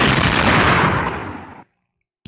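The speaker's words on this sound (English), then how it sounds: "Yeah, I'm hearing gunshots." Gunfire sound effects fired from a streamer's soundboard during a live chat stream: a dense, loud burst of shots and booms that rolls for about a second and a half, then stops abruptly into silence.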